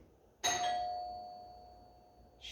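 A doorbell chime sounds again, one clear strike that rings out and slowly decays in a quiet room, with a brief unrelated noise at the very end.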